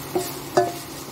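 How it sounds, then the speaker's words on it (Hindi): Onion fries with ginger garlic paste and Kashmiri chilli in a pan, a soft steady sizzle broken by two brief scraping stirs, close and fairly quiet. "अब इसको हम 1-2 मिनट तक के भूनेंगे।"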